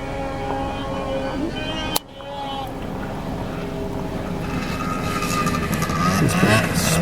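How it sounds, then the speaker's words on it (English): Snowmobiles race up and down trails around Yellowknife in March, a steady engine drone that swells louder toward the end, with a sharp knock near the start and people talking over it. "there's heaps and heaps of ski-doos. They're all racing up and down"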